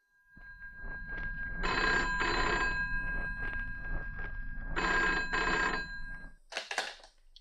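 An old telephone rings in two bursts of bright, trilling bell rings, close and clear over a steady low hum, before a brief rustle.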